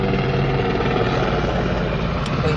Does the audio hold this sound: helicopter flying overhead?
yes